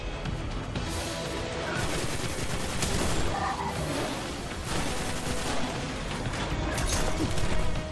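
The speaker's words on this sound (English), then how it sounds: "I shot him in the head just then." Sustained gunfire from the video game Destiny: The Taken King, dense overlapping shots and crashes running continuously and loud throughout, with no pauses between bursts.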